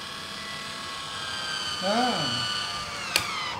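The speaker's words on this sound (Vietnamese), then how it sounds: "Rồi cái này mình khoan nè." A power drill runs with a steady, high-pitched motor whine, with a brief spoken word partway through and a sharp click near the end.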